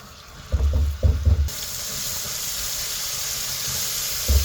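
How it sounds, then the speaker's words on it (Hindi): Garlic ginger paste sizzles steadily in a pan over low heat, with a few low thumps and clatters early on and another knock near the end. "अब इसमें डाल रहे हैं लहसुन अदरक का पेस्ट, इसको धीमी आंच में पकाना है"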